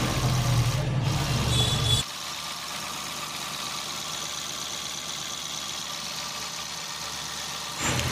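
A freshly rebuilt Mahindra TUV 300 diesel engine idles steadily with a loud, low rumble for the first two seconds, then the level drops to a quieter, steady mechanical drone with light clatter, rising again near the end.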